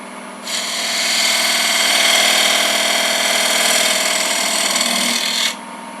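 A wood lathe turns a paten while a detail spindle gouge cuts a bead, giving a steady, continuous scraping whir that holds evenly for about five seconds before cutting off.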